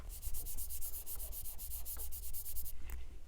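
A fingertip rubs back and forth over a matte anti-glare phone case, giving soft, close, rhythmic scratchy swishes about five per second, faint and with no talk.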